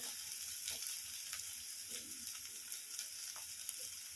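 Cauliflower, cabbage, corn, carrot, capsicum and curry leaves for a masala vegetable quinoa khichdi fry quietly in a pan, giving a steady soft sizzle broken by light scrapes of stirring.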